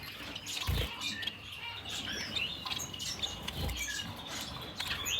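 Society finches in a breeding cage give faint, high chirps against a rustling background, with a couple of soft thumps of movement.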